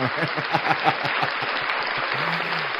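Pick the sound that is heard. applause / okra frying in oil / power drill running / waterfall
applause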